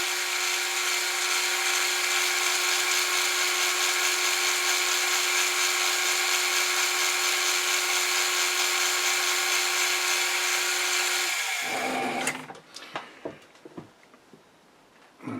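A metal lathe cuts a test thread, giving a steady, loud machining whine with a constant motor hum for about eleven seconds, then spinning down into scattered clunks and knocks.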